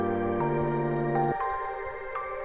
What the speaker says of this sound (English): my main sound is this plucky little music box that I got in Kontakt 5